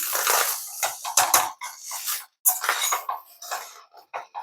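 Chicken fried rice being mixed in a pan, with a spoon scraping and clinking against the metal in short irregular bursts separated by brief pauses.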